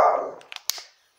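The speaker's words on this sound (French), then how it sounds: "Alors, Loulou qui aboie, il a dû entendre quelque chose dehors" A dog barks indoors, reacting to something outside: one strong bark that quickly fades, followed by a few short, sharp yips.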